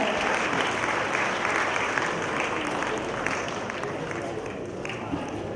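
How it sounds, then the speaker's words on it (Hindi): A large audience applauds at a book launch and poetry session, a steady, thick roar of clapping that continues evenly throughout, with a faint voice underneath. "एक बार जोरदार तालियां।"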